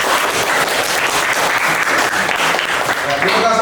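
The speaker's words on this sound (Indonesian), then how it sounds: "Tepuk tangan." A class of students claps loudly and continuously, with voices and cheers mixed into the applause and a teacher's voice rising near the end.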